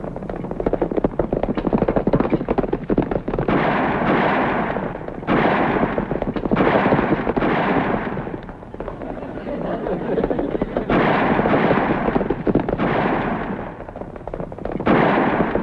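Gunshots from a western movie playing on a television, a steady run of loud cracks and rumbling reports through a noisy soundtrack, with voices talking over the shooting.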